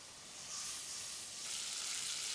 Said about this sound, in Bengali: শোল মাছ ভুনা করার জন্য মশলাটাকে ভালোভাবে কষাই নিতে হবে